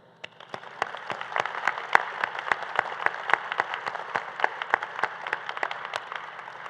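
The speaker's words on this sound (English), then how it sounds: "let's give another round of applause to the graduating class of 2024 Diagnostic Medical Sonography" A graduation pinning ceremony crowd applauds warmly, with many hands clapping in a steady dense patter and sharper individual claps standing out, heard from within the audience.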